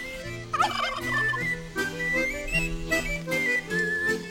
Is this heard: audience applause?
no